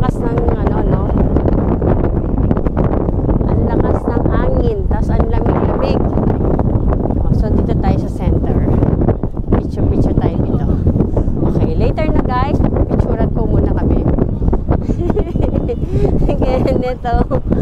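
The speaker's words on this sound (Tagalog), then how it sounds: "Ang lakas ng hangin." Strong wind buffets the microphone outdoors in Japan, a loud continuous roar with gusty rumbling throughout, while people talk over it nearby.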